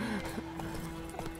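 A horse in the video game The Witcher 3: Wild Hunt, with hoof clops and a brief whinny-like call, fairly faint beneath a steady game background hum.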